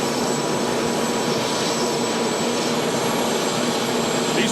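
Turbine-powered pulling tractors at a 2008 tractor and truck pull in Hamburg, NY, spooling up: a loud, steady jet-like roar with a high whine, sustained without pause throughout.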